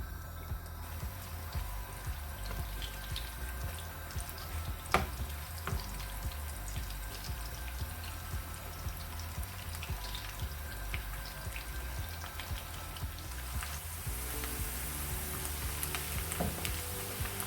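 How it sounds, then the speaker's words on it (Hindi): Chopped onion frying in a pan while preparing traditional masar curry for masar chawal, giving a steady soft sizzle with faint crackles and drips, close and continuous, no voices. "प्याज ब्राउन होना शुरू हो गया है।"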